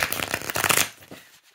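A tarot card deck is being shuffled close up, with rapid riffling and flicking of cards for under a second before the sound trails off into a few soft shuffles and near silence.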